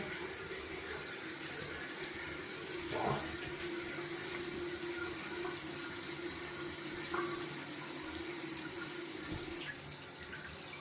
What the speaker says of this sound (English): Gonna take a quick rinse and see what it seems like.